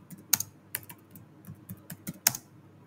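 A computer keyboard clicks in a handful of separate, close keystrokes with uneven gaps as a date is typed into a Word document, some taps sharper than others, with no talk.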